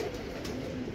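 A pigeon coos nearby, a brief low murmuring call within a second of steady background sound.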